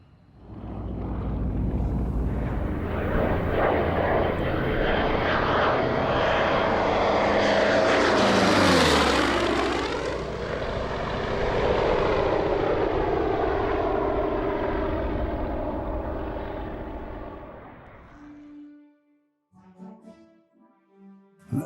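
A P-47 Thunderbolt, a heavy World War II fighter weighing nearly 8 tons loaded, roars past in flight with its propeller engine; loud sustained drone rising to a close flyby peak, then a falling pitch as it recedes and fades out.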